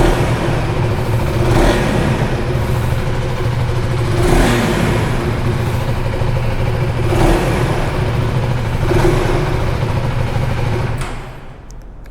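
A 2025 KTM Adventure 390 X motorcycle with an underbelly exhaust idles close by and revs several times in regular surges over a steady engine drone. The engine then settles back down, with no talking.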